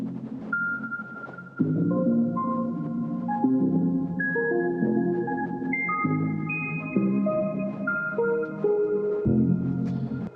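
Random melody made with MIDI FX in Logic Pro X: a clean synthesized line of short bouncing notes over a steady lower part, played alone and evenly throughout.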